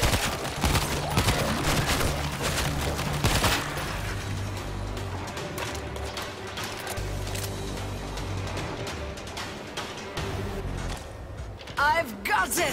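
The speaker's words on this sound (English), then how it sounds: "Machine gun is ready!" Machine gun fire in the video game World War Z Aftermath, set in Moscow: rapid bursts and shots in the first few seconds over loud combat noise and shouting, then quieter stretches with scattered hits.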